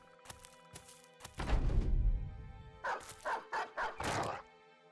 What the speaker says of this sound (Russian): Собака меня преследует.